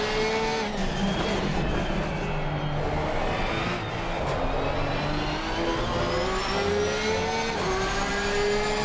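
Race car engines in an Assetto Corsa Competizione GT race at Barcelona, a continuous loud droning roar with rising revs and gear changes, steady and close throughout with no talking.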